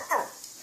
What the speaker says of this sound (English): What kind of bark is that?